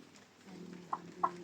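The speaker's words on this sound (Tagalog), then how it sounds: "musta naman ang puti manok?" White chicken giving two short soft clucks close by over a low steady background hum, with no talking.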